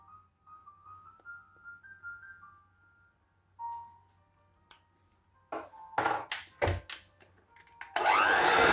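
An electric mixer whips yellow-dyed meringue in a bowl. Faint tones and clatter come first, then loud rattling bursts build into a harsh, steady whir at close range.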